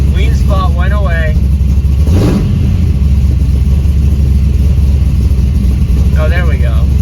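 Chevrolet C10 truck engine idling steadily and loud close by, a constant low rumble with a brief swell partway through, as people talk over it.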